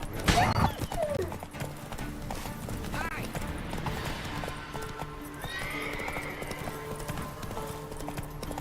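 Roach the horse gallops in The Witcher 3, hooves beating a fast, steady clip-clop near and loud, with a whinny early on and speech over the riding.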